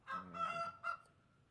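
Chickens in the medieval survival game Life is Feudal cluck and crow in two short bursts, a longer call followed by a brief second one, moderately loud with no talk over them.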